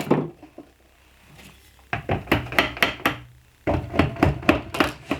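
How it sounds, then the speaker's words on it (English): A brad nailer fires nails into wooden boards during a DIY patio cooler build, with a quick run of sharp, close percussive shots, a short pause, then another rapid series of evenly spaced bangs. "I'm just shooting them in with brad nails for now to hold them in place"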